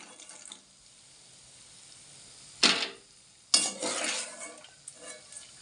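A spoon scoops fried turkey berries (sundakkai) out of hot oil in a pan, making two short, sharp scraping bursts with quiet in between.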